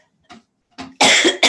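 A person coughs into a microphone, a couple of soft breathy bursts followed by a loud, harsh cough close to the mic.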